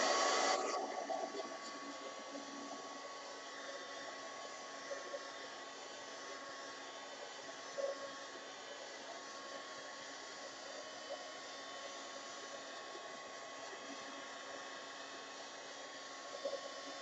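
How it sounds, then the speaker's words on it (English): A heat gun blows steadily over gesso on an art journal page, a continuous close whooshing hiss that starts loud and stays constant for the whole stretch, with a few faint knocks. "I'm going to get out my heat gun, make sure that this gesso is dry"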